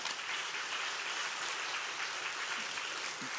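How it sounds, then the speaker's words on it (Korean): Church congregation clapping to welcome a newly registered member at a Sunday worship service, a steady, dense wash of applause held at an even level throughout, with no voices over it. "우리 박수로 환영하시겠습니다."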